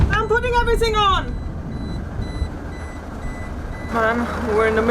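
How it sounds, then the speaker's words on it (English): A sailboat's anchor alarm beeps in a fast, repeating electronic pattern near the start, goes quiet during a stretch of steady background noise, and then sounds again toward the end. "the anchor alarm went on right away"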